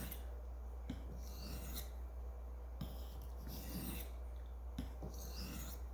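A knife is drawn across a sharpening stone in quiet, close rasping strokes that come in regular passes, with short gaps between them and no voice.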